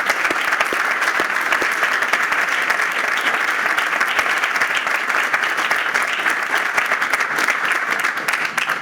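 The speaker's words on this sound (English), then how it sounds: "ask everybody to give them a round of applause" A groundbreaking ceremony audience gives a sustained round of applause, dense steady clapping from many hands throughout, fairly loud and close, with faint crowd murmur underneath.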